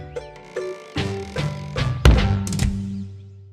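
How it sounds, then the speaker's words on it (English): A door slams shut with one heavy, loud thunk as a sound effect in a children's storybook recording. Soft musical tones play before and after the bang. "slamming his door. Bang!"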